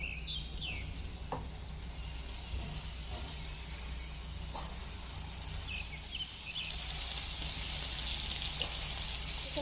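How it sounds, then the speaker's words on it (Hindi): Boneless chicken fries in ghee on a tawa, a close, constant hissing sizzle with small pops and crackles, unbroken throughout and growing a little louder toward the end. "चिकन को घी में तकरीबन 4 से 5 मिनट तक फ्राई होने देना है"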